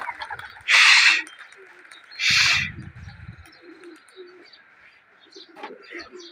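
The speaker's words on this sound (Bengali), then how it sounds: "এই যে বাচ্চা কবুতরগুলো," Young pigeons cooing in a loft, soft low murmuring coos scattered through the clip near the mic, broken by two loud bursts of rustling noise and a voice speaking.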